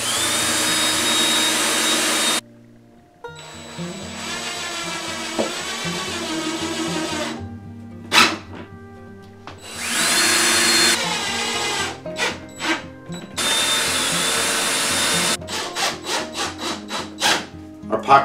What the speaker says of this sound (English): I'm going to pre-drill this because the framing for the pocket door is very thin here